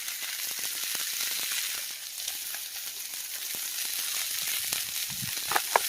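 Tomahawk steak sizzling on a Camp Chef griddle, a steady, fairly quiet frying crackle with scattered pops and spits, a couple of sharper clicks near the end, no talking.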